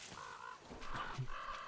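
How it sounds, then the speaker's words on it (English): A bird in the game Metro Exodus gives a few harsh, crow-like caws in short bursts over a steady ambient background, moderately loud and fairly close. "Hear you up there, bird."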